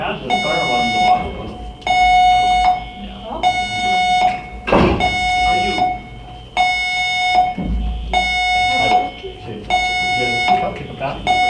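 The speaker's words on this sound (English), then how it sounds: "It's funny, we've never had the fire alarm go off." A fire alarm sounds in repeated loud electronic pulses, about half a second to a second each, cycling steadily through an indoor board meeting room while people talk over and between the blasts.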